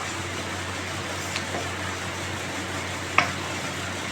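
Spices with crushed black pepper sautéing in oil for a sardine dish, a low even sizzle close by, with a couple of brief spatula knocks against the pan.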